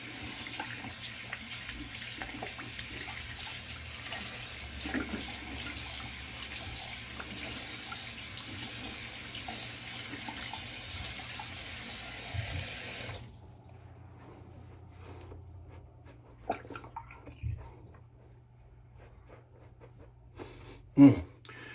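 A tap runs cold water steadily for about thirteen seconds, then shuts off, leaving a quiet room with a few soft clinks and knocks.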